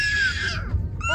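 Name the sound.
child screaming loudly on request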